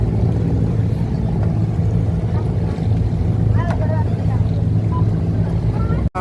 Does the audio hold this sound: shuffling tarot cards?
no